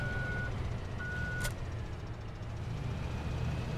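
Truck reversing beeps in Farming Simulator 17, two steady electronic tones in a row, clear and moderately loud over a low engine rumble.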